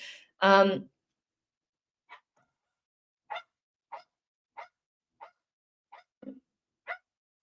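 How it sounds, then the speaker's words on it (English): A dog barks several times in short, sharp yaps spaced about a second apart, fairly close, after a brief burst of a voice at the start. "That's a different dog."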